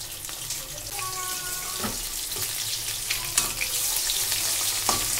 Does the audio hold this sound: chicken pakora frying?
yes